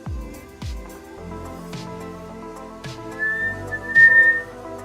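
A freshly blown glass ornament gives a thin, wavering whistle after a hole is popped open in it, with a few sharp taps and clinks sounding nearby.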